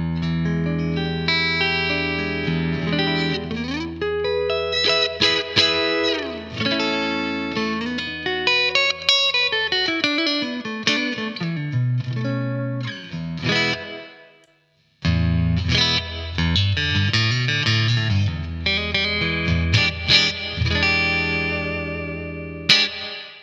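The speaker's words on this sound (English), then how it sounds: "Let's check out the bright setting on the clean there." Electric guitar played through a Blackstar AMPED floorboard amp on the clean channel with the bright setting engaged, ringing chords and single-note runs with sliding bends, close and full, with a brief silent break midway and no talk.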